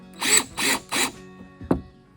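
A power drill whirs in three short bursts driving screws into the roof panel of a Craftsman 7x7 shed kit, followed by a brief knock; close and fairly loud, no talking.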